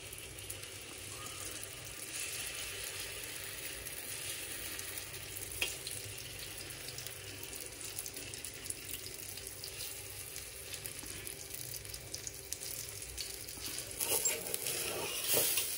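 Moong dal cheela batter sizzling in ghee on a pan, a steady, fairly faint frying hiss running throughout with occasional soft clinks near the end.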